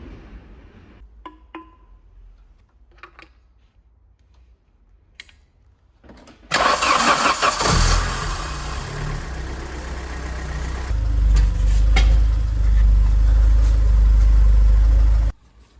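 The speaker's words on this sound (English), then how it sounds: "I started the engine for the next 15 and 20 minutes" A modified GSI car's engine turns over after several quiet seconds, following an oil change, catches, and settles into a loud, steady idle with a deep low rumble that grows heavier.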